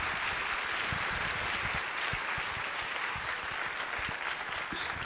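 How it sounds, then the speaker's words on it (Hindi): Sustained applause from a seated audience at a Hindi talk event, dense and steady clapping at close range that fills the whole stretch with no voices over it. "give a good applause to her"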